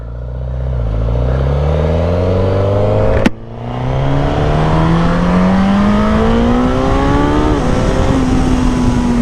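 A Suzuki GSX-S1000 naked motorcycle pulls hard through the gears from onboard, its engine note climbing in pitch with a brief drop at a shift, then rising again, loud and close against wind rush.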